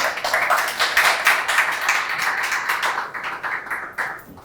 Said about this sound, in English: Let me give Tyson a round of applause.